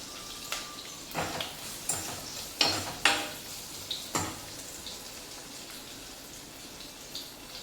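Onions sautéing with salt in a pan, a soft steady sizzle with a few sharper stirring scrapes and clinks spaced irregularly across the clip, moderately close and with no talking.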